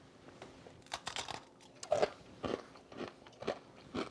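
Crisp crunching bites and chewing of a Cinnamon Toast Crunch cereal ice cream cone, a run of close crackly crunches coming about every half second.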